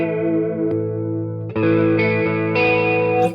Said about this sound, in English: Like you got the chorus sound.